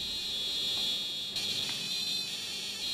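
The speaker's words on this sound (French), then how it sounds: "Le détecteur d'EMF s'est déclenché juste après une question." An EMF detector alarm in a cellar gives a steady high-pitched electronic whine that holds continuously for a few seconds, fairly faint, with no speech.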